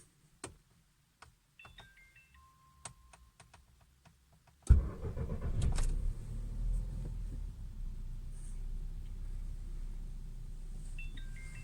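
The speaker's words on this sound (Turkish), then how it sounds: "Evet şimdi bir çalıştırmayı deneyelim." Volkswagen Jetta petrol engine starting after a fuel filter change: quiet clicks and ticks, then the starter cranks and the engine catches, settling into a steady idle that is nearby and moderately loud.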